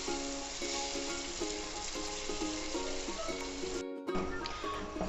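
Chana dal frying in a kadhai, dhaba style, gives a steady, close broadband sizzle throughout, with a repeating tonal hum underneath and a brief dip near the end before the sizzle resumes.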